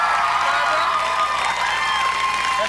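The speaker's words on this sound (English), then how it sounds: "Why do you applaud?" A studio audience on a late-1990s variety talk show breaks into loud applause mixed with cheers and whoops, a bright sustained burst of sound close to the microphone.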